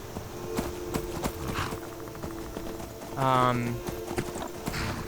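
Horse hooves clip-clop at a steady riding pace in Skyrim, a moderate rhythmic patter running under continuous talk, with other game sounds briefly rising over it.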